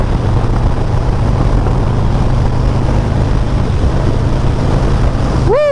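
A Harley-Davidson Sport Glide motorcycle running fast on the road gives a steady, loud, broadband roar with heavy wind rush throughout, and a short rising whine appears at the very end.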